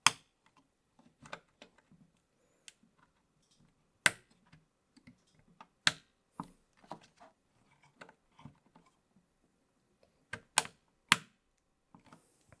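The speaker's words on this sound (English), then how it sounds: "It's so satisfying to click memory modules into place" Sharp, isolated plastic clicks of memory modules snapping into a 64-core PC motherboard's sockets, one after another at irregular intervals in a quiet space, with a few softer handling taps between them.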